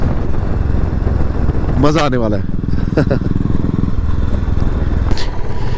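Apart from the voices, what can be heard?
motorcycle riding on highway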